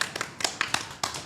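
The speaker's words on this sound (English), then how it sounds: "Round of applause for you." During a talk show about racing, a brief round of hand clapping plays out as a handful of sharp, close, irregular claps over about a second.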